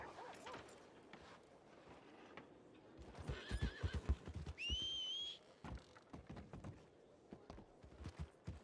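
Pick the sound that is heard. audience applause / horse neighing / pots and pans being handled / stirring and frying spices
horse neighing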